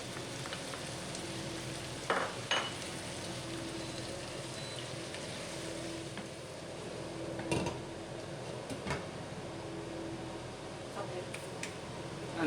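Garlic frying with tomatoes in a pan for Portuguese farrafuza, a steady low sizzle running throughout with a few sharp clicks and utensil taps near the pan.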